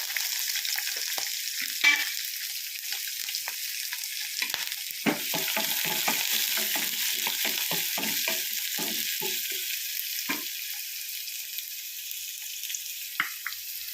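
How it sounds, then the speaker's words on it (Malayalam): Onion and green chillies sauté in a pan for a Kerala ivy gourd and prawn theeyal, with a steady close sizzle and scattered stirring scrapes that cluster in the middle and then thin out; no talking. "ആദ്യം ഉള്ളി പച്ചമുളകും കൂടെ വഴറ്റുക"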